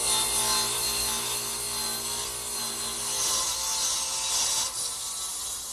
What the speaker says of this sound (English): Now I'm ready to cut these side pieces, actually cut the angle on the side pieces, which I'll do over here on the radial arm saw